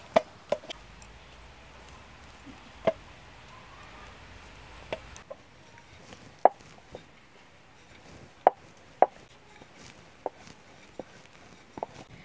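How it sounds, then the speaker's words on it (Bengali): Roti dough is rolled out on a board, with sparse, sharp knocks and taps from the rolling pin at irregular intervals over a quiet kitchen background. "এবার আমি রুটিগুলো বেলে নেব"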